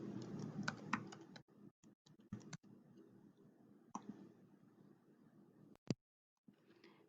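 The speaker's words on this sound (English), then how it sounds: "The next thing you do is you will type in the book that you would like to read." Typing on a computer keyboard to search a library catalogue for a book: quiet, irregular key clicks in short runs, close and alone.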